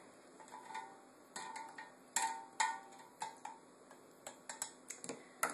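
A spoon stirs starter tea in a glass jar for kombucha, giving a series of sharp clinks and taps against the glass in an irregular rhythm, close and clear.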